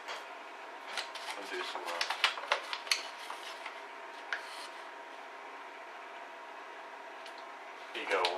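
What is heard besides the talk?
scooping flour out of a bowl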